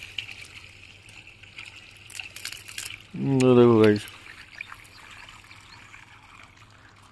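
Mains supply water gushes briefly for under a second at a house construction site, a loud splashing burst amid quiet background, with someone speaking just before it.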